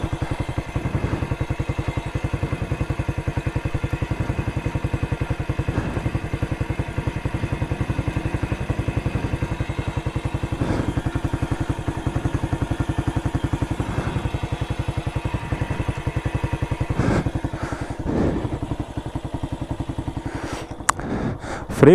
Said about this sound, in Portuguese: não sei o que tá acontecendo com essa moto hoje